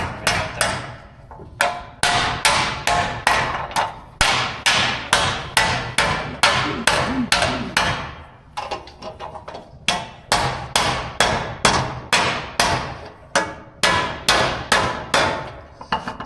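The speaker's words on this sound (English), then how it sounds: "We can finish hammering it out there." A hammer strikes a metal tuck on a wooden dishing stump in rapid, steady blows, grouped into bursts separated by short pauses, close and sharp with no talking.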